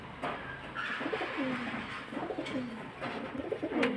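Pigeons at a bird market coo in low, rolling repeated calls, several overlapping birds close by against a busy, noisy background with no talking.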